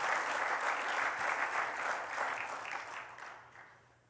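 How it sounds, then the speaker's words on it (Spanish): Church congregation applauding during a Spanish-language sermon, a dense sustained wash of many hands clapping together, loud and steady before fading toward the end. "Denle un aplauso a Cristo."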